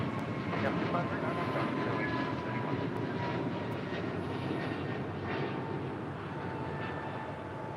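A JetBlue Airbus A321 at LAX powers up for takeoff, giving a broad, steady engine roar heard from a distance, with faint radio chatter and a voice running underneath.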